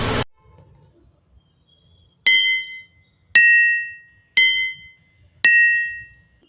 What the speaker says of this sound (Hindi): जब मैंने खाली कांच के ग्लासेस को बजाया तो उस समय उसकी नेचुरल फ्रीक्वेंसी जो थी वो मैंने रिकॉर्ड की